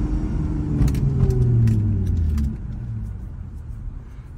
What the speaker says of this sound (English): Listen to the downshift.